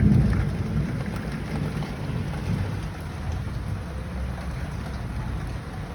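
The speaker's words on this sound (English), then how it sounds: "this is my front bedroom window, and it's pouring down" Heavy rain pours steadily against a front bedroom window in an apartment in Accra, Ghana, a dense, continuous low wash of downpour with a constant roar and no voices.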